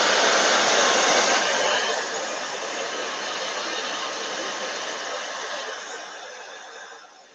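A hair dryer blows steadily on fresh paint on a wooden photo frame, a loud, close, continuous airy roar that eases slightly after two seconds and fades near the end, with no talking.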